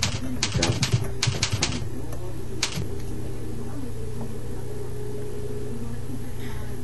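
Rapid bursts of keyboard clicks as a web address is typed, clustered in the first three seconds over a steady background hum, then the keys fall quiet.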